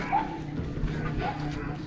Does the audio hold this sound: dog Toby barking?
yes